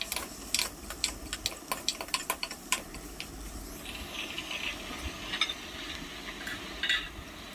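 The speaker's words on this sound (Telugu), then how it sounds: "పసుపు, అల్లం వెల్లుల్లి పేస్ట్, పసుపు మంచిగా పచ్చివాసన పోయేంత వరకు ఫ్రై చేసుకోండి" Ginger garlic paste and turmeric fry in a pan, a soft sizzle under close clinks and scrapes of a spoon stirring against the metal, with no talking.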